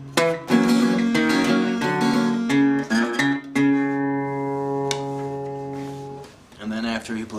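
An acoustic guitar plays Delta country blues, with plucked notes and the open fourth string ringing out and sustaining, close and fairly quiet, with someone speaking briefly between phrases.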